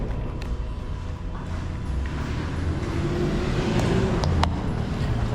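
A car engine runs outside after a service, a steady close rumble that builds slightly toward the end, with faint clicks over the top.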